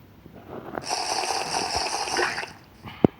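In Minecraft, a character drinks water with a continuous gulping, liquid slurping sound for about two seconds, ending in a brief sharp pop.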